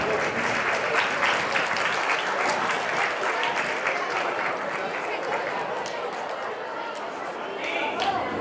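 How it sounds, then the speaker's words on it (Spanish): Dense audience applause at an athletics medal ceremony honoring young javelin throwers, continuous and fairly loud, mixed with crowd chatter and voices throughout. "Un fuerte aplauso para estos lanzadores."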